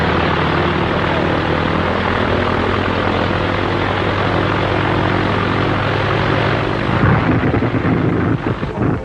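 Propeller airplane engine drones loudly and steadily throughout, a dense broadband roar that swells slightly near the end, with no voices over it.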